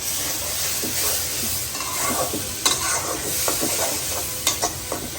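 Vegetables sizzle in a hot pan while a utensil scrapes and stirs them in uneven strokes during a slow sauté, with a few sharper clacks near the end.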